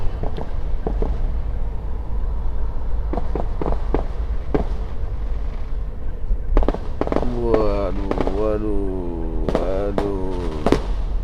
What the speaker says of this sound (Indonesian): suara kembang api sudah dinyalakan teman-teman nih